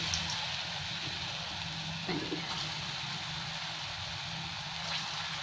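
Bottle gourd kofta balls fry in hot oil over a lowered gas flame, making an even, rain-like hiss that stays moderately quiet and continuous throughout, with no talking.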